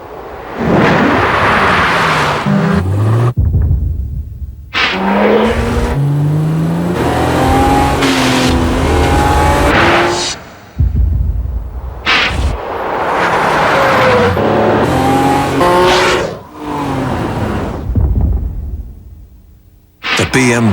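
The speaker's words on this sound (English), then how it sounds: "The BMW X5, another ultimate driving machine." A BMW X5 in a TV advert drives and accelerates, with loud engine revving and whooshing passes in several bursts separated by short gaps, music-like tones overlapping the engine.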